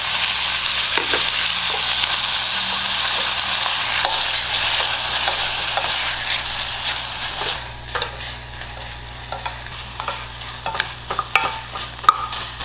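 Altari kimchi frying in a pan with minced garlic, a steady loud sizzle with stirring scrapes and clinks; the sizzle eases after about eight seconds, leaving sharper utensil knocks.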